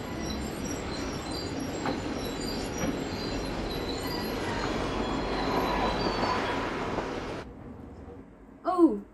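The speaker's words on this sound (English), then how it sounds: "Oh, you're accompanying him on the train." A train riding on rails in a Japanese film, a loud rolling rumble with rhythmic wheel clatter that cuts off abruptly, followed by a short squealing sweep; people talk over it.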